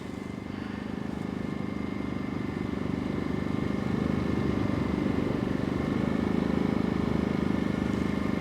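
A BILT HARD 2500W inverter generator holding a low idle, giving off a steady, even engine hum with a faint mechanical buzz that stays close and constant throughout without any change in pitch.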